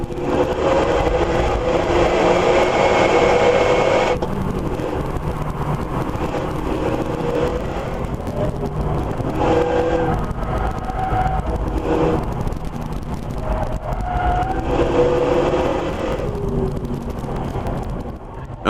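Classic cars racing at high speed on the Albi circuit: loud, continuous engine roar with shifting pitch as cars pass, heavy wind buffeting on the microphone, no speech.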